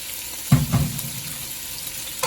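Franks sausage drops into a hot pan for a Jamaican-style steamed cabbage dish, giving a sudden loud sizzle burst that settles into a softer, steady frying crackle.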